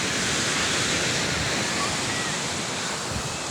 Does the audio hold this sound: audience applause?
no